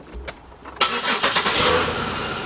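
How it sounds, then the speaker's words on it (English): A 2005 Chevy Impala with a 3.8 engine cranks briefly and then catches, settling into a loud, rough, close idle. The car has been stalling out when warm. "let's start the vehicle up."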